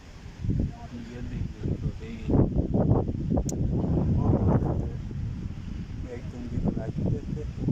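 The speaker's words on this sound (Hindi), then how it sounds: "इंतहाई तेज़ हवा चल रही है हमदान क्रिकेट ग्राउंड बागवार में।" Very strong wind at Hamdan Cricket Ground in Mansehra during a halted match buffets the microphone with loud, steady roaring gusts, while voices murmur faintly underneath.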